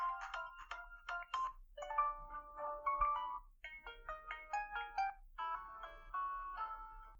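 Several short notification ringtone previews from Facebook Messenger play one after another, each a bright, chiming melodic jingle of a second or two, clear and close with no talking.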